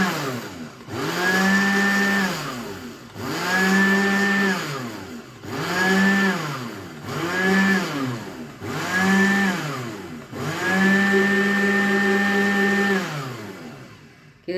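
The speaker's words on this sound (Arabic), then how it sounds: "وهبدا بقى اضربهم الاول شويه البيض" Electric hand mixer whipping eggs for an orange cake, running in six loud bursts of steady whirring with brief pauses between them as the speed rises and falls, nearby and with no talk.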